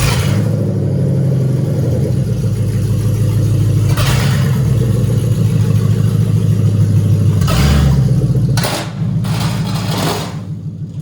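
A custom truck engine rumbles steadily at a low idle as the vehicle is moved, a close, continuous mechanical drone with a couple of brief sharper bursts and clatter before easing off at the end.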